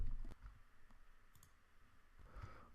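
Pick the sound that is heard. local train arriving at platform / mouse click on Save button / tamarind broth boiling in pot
mouse click on Save button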